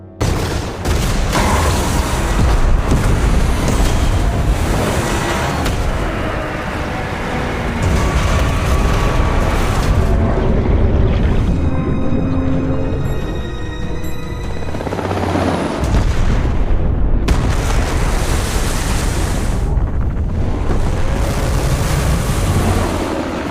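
A bomb from a helicopter attack erupts in the open sea in an action film scene, deep booming blasts and rushing water roar over surf and wind, loud and dense with a brief lull midway.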